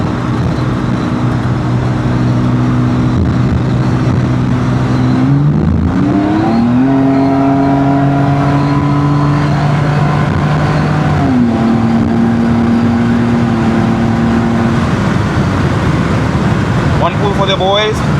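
A BMW E36 328i accelerating on the road, its engine note rising through the gears in several climbing sweeps with gear-change dips, heard from inside the car with someone talking over it.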